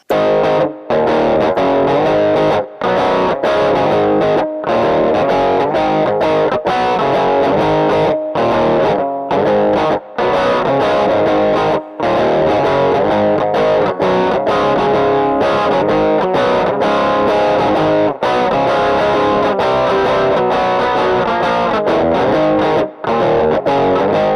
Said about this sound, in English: here we should have some pretty nice distortion sound